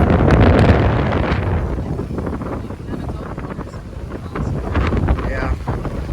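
Strong wind gusts on the Big Island buffet the microphone with loud rumbling roar, easing slightly then building again, with water faintly audible beneath.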